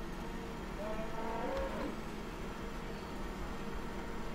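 Cattle low and moo in Farming Simulator 2013, a single short moo partway through over a steady hum of game ambience, with no one talking.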